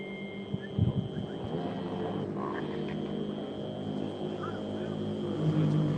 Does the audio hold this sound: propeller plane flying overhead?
yes